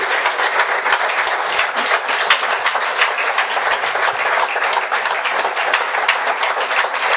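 Church congregation applauding during a Spanish-language sermon, steady dense clapping from many hands sustained without pause, loud and continuous with no talking.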